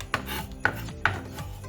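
A knife cuts onions, producing three sharp chopping strikes spaced roughly half a second apart, close and moderately loud, with no talking.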